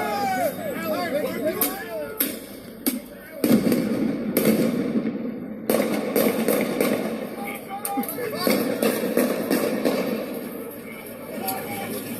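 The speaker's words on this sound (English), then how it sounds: "Shots have been fired." Gunshots ring out in a street during a Kentucky protest after a court verdict, several sharp cracks at irregular intervals over a constant murmur of crowd chatter and voices.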